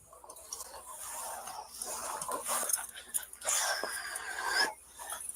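A dog being coaxed into a box whimpers and whines in soft, uneven bursts, close by and fairly quiet, swelling in the middle and dropping away near the end.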